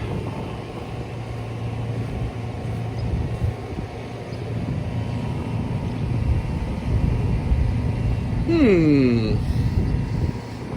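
An outdoor air conditioner condenser unit on a cooling system that is not cooling runs with a steady, close fan-and-compressor whir and a low hum, and a brief sweeping chirp rises over it near the end.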